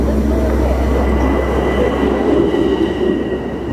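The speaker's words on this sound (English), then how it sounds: "There's a train coming in now." A Long Island Rail Road Ronkonkoma train pulls in with a loud, steady rumble, faint wheel squeal and a constant drone, heard close with no voices.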